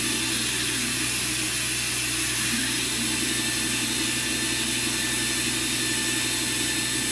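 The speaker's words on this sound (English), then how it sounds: "And that's the air you hear. And then you can hear the spindle." A Walter Helitronic Mini Power CNC tool cutter grinder runs with its air flow and spindle together, making a steady, loud, continuous hiss and whir that never lets up, with no talking.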